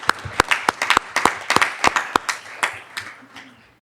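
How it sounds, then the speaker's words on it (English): Applause from a small audience at a board of education meeting: a few loud, distinct handclaps in an uneven rhythm, thinning out and stopping after about four seconds, with no talking. "clap it up for him, guys."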